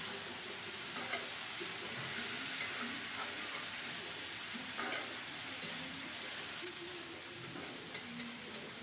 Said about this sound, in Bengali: ভালো করে নেড়ে চেড়ে সব কিছু মিশিয়ে দিয়ে কিছুক্ষণ ভেজে নিয়ে